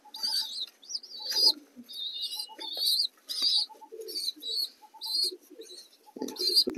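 Pigeons, including day-old squabs, are hand-fed by syringe and give repeated close, high squeaky calls with soft coos in between, in short bursts separated by brief pauses.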